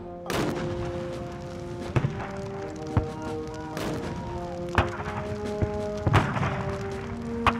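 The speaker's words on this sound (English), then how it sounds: "He ordered his fleet to open fire on Baton Rouge." Cannon fire from a Civil War naval fleet bombarding Baton Rouge, heard as repeated heavy booms and thuds at uneven intervals beneath a sustained droning musical score.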